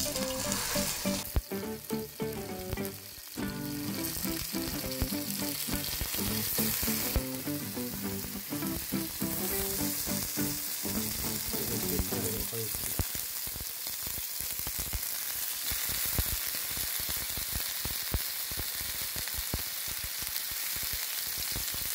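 Young lamb ribs fry in olive oil in a pan, a steady close sizzle and crackle that runs throughout with no talking.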